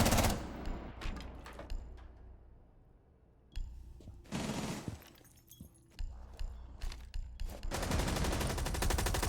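Gunfire in a competitive shooter video game match: loud bursts of automatic fire and single shots in clusters, with sharp cracks and a sustained volley at the end.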